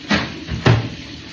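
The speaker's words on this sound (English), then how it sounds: "let's shut that back door" A house's back door is pushed shut on a cold evening, giving two soft, dull thuds close by a moment apart, with a quiet room hush around them.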